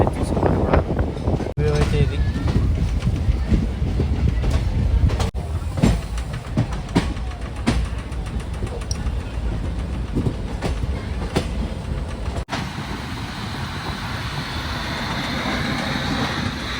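The Puri Express rolls along near Vijayawada by the Krishna River, a loud continuous rumble with rhythmic clickety-clack of wheels over rail joints and occasional sharp clanks, heard from on board.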